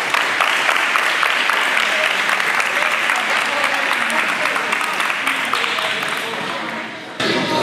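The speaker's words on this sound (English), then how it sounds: "So let's give her a round of applause real quick." Audience applause at an Atlanta basketball event, a dense, steady wash of clapping from a crowd that stays strong and continuous before thinning out near the end.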